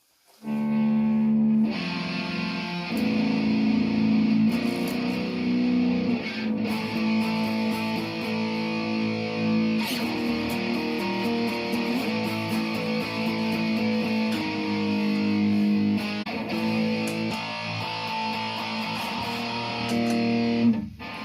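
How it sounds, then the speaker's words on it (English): An electric guitar plays sustained notes and a simple riff through heavy distortion from the amp's distortion setting, the sound thick and buzzing, loud and steady with no one talking. "if I put the distortion on my amp and just play on the settings quickly"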